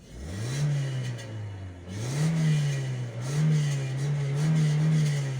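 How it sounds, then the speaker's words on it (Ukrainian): A car engine running on gas revs up and down in repeated surges, a steady mid-pitched hum rising and falling, close and fairly loud with no talking. "машинка прийшла на газ"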